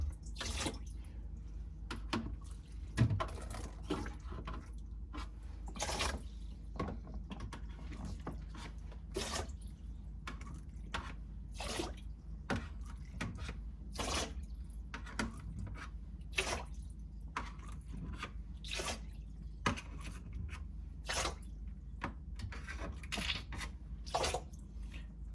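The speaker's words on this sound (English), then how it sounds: "suck out the cold water" Cold meltwater is drawn out of the ice buildup inside a Samsung RF26HFENDSR/AA refrigerator, giving faint close-up wet slurps and squishy drips repeating irregularly over a low steady hum, with no talk.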